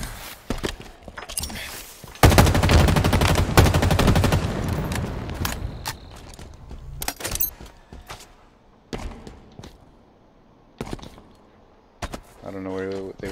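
Needler gunfire in the Halo Infinite multiplayer video game, with a loud sustained burst of rapid shots followed by scattered single impacts, thumps and game effects.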